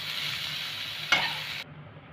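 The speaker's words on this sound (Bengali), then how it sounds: "এইভাবে হালকা করে ভেজে নিতে হবে।" Jackfruit and potato pieces fry in oil in a pan, a steady close sizzle with one sharp stir or scrape before the sound cuts off abruptly.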